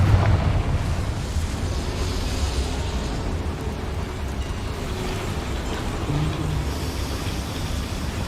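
A fiery Confringo spell blast in Hogwarts Legacy, set inside a small mine, with a sharp burst at the start followed by a steady low rumble and crackling debris that lingers with no talking.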